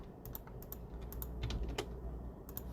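A few soft computer keyboard keystrokes, quick separate clicks in small clusters over a low steady hum, heard close and quiet while someone copies data in graphing software.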